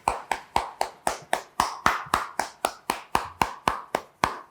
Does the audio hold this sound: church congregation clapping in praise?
yes